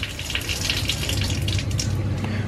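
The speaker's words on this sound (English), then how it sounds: "Water pressure here, it's actually pretty good." A tap runs at good pressure in an upstairs washing area in Angeles City, Philippines, giving a steady, close gush of water with no voices.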